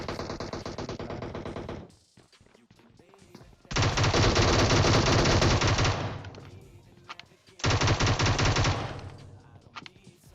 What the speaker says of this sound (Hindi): अब मैं प्री फायर देता हूँ यार, दो गोली लग भी जाती है।